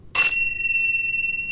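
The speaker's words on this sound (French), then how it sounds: "les cloches tibétaines." Tibetan bells struck once ring out with a bright metallic attack and a long, clear, slowly fading shimmer, loud and close with nothing else heard.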